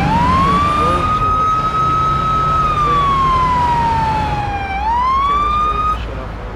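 Loud police car siren in a police simulator video game, wailing in a slow rising and falling sweep over a low engine drone, close and continuous.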